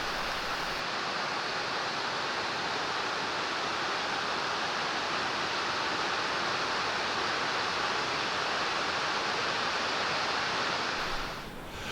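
Waterfalls spill over limestone travertine barriers in Croatia, giving a steady, dense roar of rushing water that holds constant and loud throughout, then eases off slightly right at the end.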